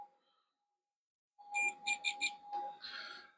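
A multimeter beeping during a continuity test, a faint steady tone followed by a cluster of short electronic beeps up close.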